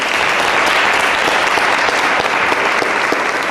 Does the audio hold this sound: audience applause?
yes